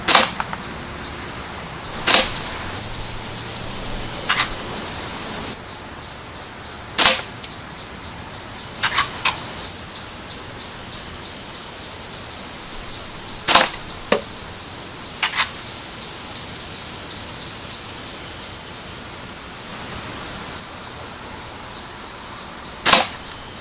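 Umarex air rifle firing pellets outdoors, about a dozen sharp, crisp cracks spaced several seconds apart, each a brief snap standing clearly above a quiet background hiss.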